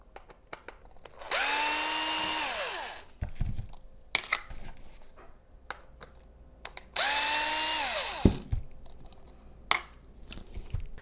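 Power driver backing T25 screws out of a Mercedes EIS case, two loud rising whirs a few seconds apart, with small clicks and handling noises between them.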